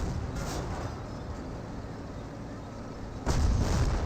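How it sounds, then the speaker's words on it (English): Decoy artillery barrage in Company of Heroes 1, a low distant rumble of shelling that swells suddenly near the end with a heavier burst. "Another decoy barrage there."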